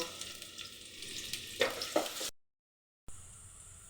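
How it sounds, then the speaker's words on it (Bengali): Chopped onions frying in oil for a Malabar spinach stem curry, a soft steady sizzle with a couple of stirring clacks before the sound cuts out briefly and resumes. "পেঁয়াজ কুচিগুলো একটু ভেজে নেব"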